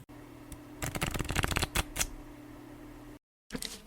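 Tarot cards are shuffled in a quick riffling burst of rapid flutters lasting about a second, followed by a few softer taps, a brief silence and another short shuffle.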